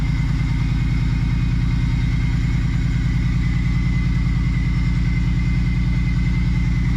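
The engine of a Ford Shogun build car runs loudly at a steady idle, a constant, close, thumping rumble that carries on for the whole stretch with no voices.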